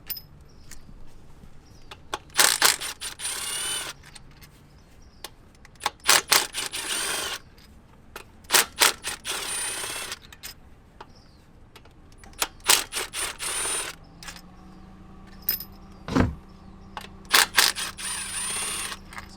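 Ratchet working on transmission pan bolts underneath a BMW with a ZF 6HP19/21 automatic gearbox: several bursts of fast clicking, close and fairly loud, separated by pauses and a few clunks, with no talk.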